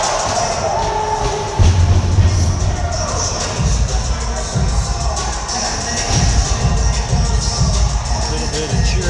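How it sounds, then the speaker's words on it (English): A crowd cheers and murmurs at an ice hockey game, a steady broadband roar with brief louder swells and low thumps from the rink, continuing throughout. "A little bit of cheering going on there."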